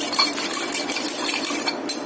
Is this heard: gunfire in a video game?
no